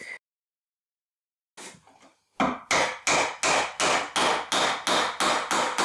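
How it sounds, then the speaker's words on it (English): A few light taps, then a steady series of about eleven sharp hammer blows driving oak wooden nails into holes in wood, evenly spaced and close by. "Take it steady when hammering, as the oak nails can easily snap."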